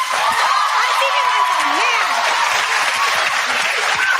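Studio audience on a daytime talk show keeps up steady applause mixed with chuckles and cheering, a loud, continuous crowd wash with a voice rising over it.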